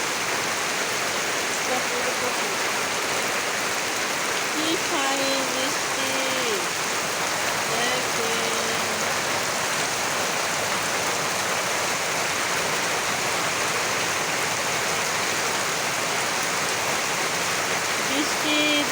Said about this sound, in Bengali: দেখছেন বৃষ্টি